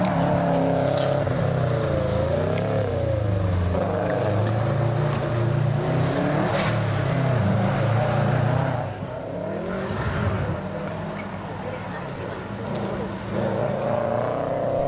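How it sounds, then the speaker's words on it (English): A bright blue Subaru WRX STI accelerates up a hillclimb course at the Legend of the Lakes Hillclimb, its engine droning loud and steady with rising revs, a dip around a gear change, then pulling hard again under commentary. "Ben Trelaw's up the hill now in the bright blue WRX STI"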